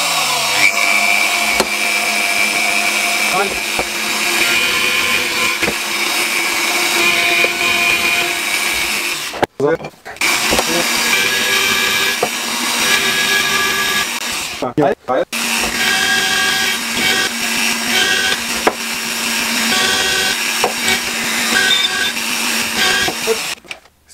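A power drill bores through a board with a loud, continuous whine that runs nearly the whole time, stopping twice briefly before starting again; a voice is heard speaking briefly.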